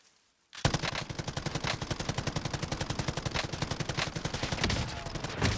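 Sustained rapid automatic gunfire in a video game as a player shoots at a vehicle's driver, a steady fast rhythm of loud close shots running for several seconds after a brief quiet start.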